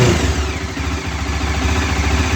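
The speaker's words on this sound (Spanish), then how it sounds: "Vamos a acelerar un poquito." A Bajaj Dominar 400 motorcycle engine runs loud and close, its throbbing, steady firing rising slightly as the throttle is opened, with no speech.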